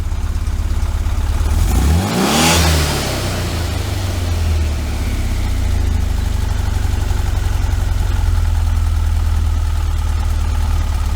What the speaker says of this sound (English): you can really tell the rotational mass of this thing by spinning it up and watching how long it takes it to slow down